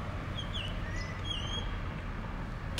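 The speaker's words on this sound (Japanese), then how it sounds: "お聞きになれますかこの鳥の声" Faint, high bird chirps and whistles come and go over a steady low background rumble of distant traffic.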